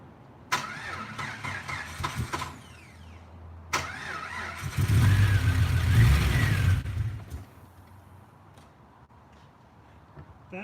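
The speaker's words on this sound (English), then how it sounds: "Squirting a little bit of starting fluid in there, starts up." Rebuilt car engine started on starting fluid: a couple of cranking bursts, then the engine catches and runs loudly for a few seconds, revving before settling and dying down to quieter noise.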